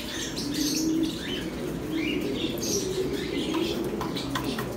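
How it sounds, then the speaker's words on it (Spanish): Pigeons in a loft, heard as a near, steady flurry of flapping wings with low cooing underneath and scattered short chirps, continuous throughout with no talk. "Miren esa paloma hembra."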